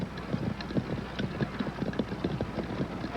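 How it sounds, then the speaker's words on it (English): Horse hooves clip-clopping in a brisk, steady rhythm of sharp knocks on a road, close and clear with a faint background rumble. "I kicked my horse, jumped him out in front."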